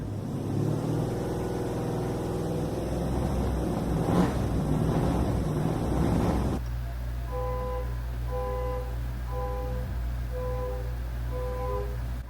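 A neighbour's Chrysler Sebring car engine drones and revs loudly nearby, with wind buffeting the microphone. It then settles into a steady low rumble alongside a faint repeating tone.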